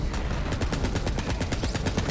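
Rapid, steady shotgun fire in a PS4 video game, with close, loud shots repeating in a tight rhythm and no talking.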